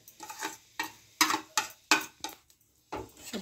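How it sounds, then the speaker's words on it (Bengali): Fried mixed vegetables tipped into a pan of cooked mung dal and stirred, producing a series of separate scraping and clattering strokes with brief pauses between them. The sounds are close and moderately loud, and no one speaks. "এবার আমি সবজি ভাজাটা দিয়ে দিচ্ছি পুরোটা।"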